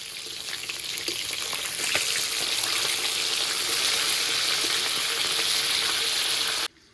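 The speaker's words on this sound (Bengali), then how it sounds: "মাথার এক সাইড ভাজা হয়ে গেছে এবার উল্টিয়ে দেবো" Rohu fish head, already browned on one side and just turned over, sizzles in hot oil in a pan with a steady, dense crackle that holds loud and even for about six and a half seconds before cutting off.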